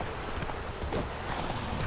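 Horse hooves clip-clop at a gallop in The Witcher 3, a steady run of low muffled thuds under a continuous noisy game background, fairly quiet throughout.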